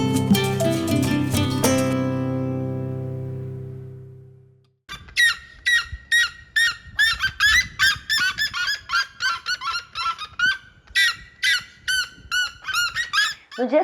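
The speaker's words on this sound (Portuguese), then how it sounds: "acordamos ao som de siriemas. Que é um pássaro típico aqui do Cerrado" Red-legged seriemas calling in the Cerrado of Chapada dos Veadeiros: a run of loud, rapid yelping notes repeating in a steady rhythm after a fading musical tone.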